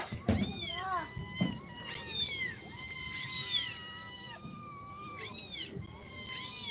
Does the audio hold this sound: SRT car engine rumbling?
no